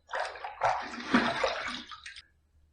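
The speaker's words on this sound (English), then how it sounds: "Let's rinse." A blue Zomchi safety razor is rinsed under running tap water, a close, steady splashing gush lasting about two seconds before cutting off, with no voices.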